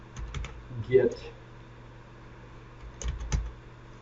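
Computer keyboard being typed on while coding, with short bursts of clicking keystrokes at the start and again near the end, close and fairly quiet, with a brief spoken word in between.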